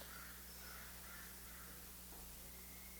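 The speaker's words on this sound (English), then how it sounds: "The word crow is not this caw, caw, cawing" A crow caws four times in a slow, even series, faint and distant over a quiet background hum, with no voices.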